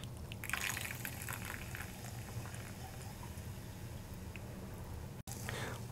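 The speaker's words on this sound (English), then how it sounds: "Now, we are going to top this up with some soda water." Schweppes soda water poured into a gin orange cooler cocktail makes a faint, continuous fizzing and trickling sound, with soft bubbling and a brief gap near the end.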